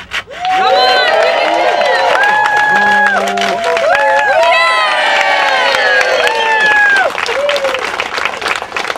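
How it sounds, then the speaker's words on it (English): A crowd at a Home Depot community event cheers and whoops loudly, with children shouting, applause and excited voices sustained throughout as a board is cut. "Guys, cheer it on."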